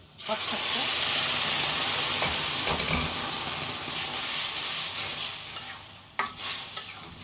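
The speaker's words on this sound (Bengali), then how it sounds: "এই যে এখন দিয়ে দিতেছি পাট শাকটা" Jute leaves tossed into onions fried until red in a hot pan set off a loud burst of sizzling and steaming that settles into a steady hiss, with a few stirring clanks near the end.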